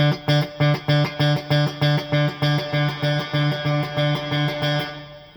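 Electric guitar through a Quilter Tone Block 202 head in vintage mode with heavy reverb, a steady run of evenly repeated strummed chords, clean and close, each attack smeared into a lingering reverb tail.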